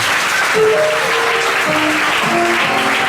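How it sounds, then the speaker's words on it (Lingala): A church congregation applauds during a miracle testimony service, a dense, loud, steady wash of clapping from a crowd, with a few voices rising over it. "Acclamons encore pour Jésus"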